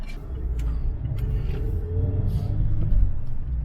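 A car travels along a highway on a Montana road trip, producing a steady low rumble of engine and road noise that swells slightly, with no talking.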